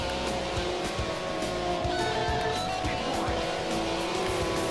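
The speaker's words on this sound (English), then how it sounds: "Listen to the engine on full chat." Simulated motorcycle engine held at full throttle in the racing game Moto Racer 2, a steady high-pitched drone with faint tire noise, loud and continuous with no voices.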